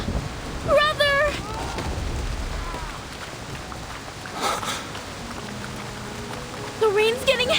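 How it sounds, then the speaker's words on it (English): In the video game Reverse 1999, heavy rain makes a broad wash while low thunder-like rumbles and bursts come through. Voices cry out over the storm at several points. "The rain's getting heavier!"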